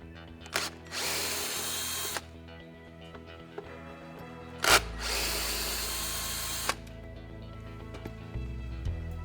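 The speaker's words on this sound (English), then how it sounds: "I like to keep the torque on low to prevent the screws heads from stripping." Power drill on low torque backing screws out of the wheel support on an MGI Navigator quad golf trolley; two sustained whirring runs of a couple of seconds each, close and loud, separated by quiet handling clicks.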